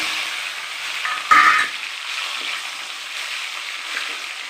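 Onions, curry leaves and mustard seeds fry in a pan with a soft, steady hiss and sizzle, a brief louder crackle near the start, close and continuous with no talk.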